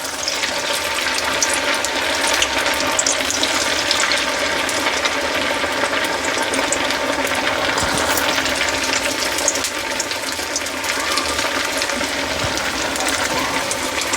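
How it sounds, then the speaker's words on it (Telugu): Sabudana vadas deep fry in hot oil with a dense, continuous bubbling hiss that holds steady at moderate loudness throughout, with no voices. "ఇప్పుడు డీప్ ఫ్రై చేద్దాం రండి"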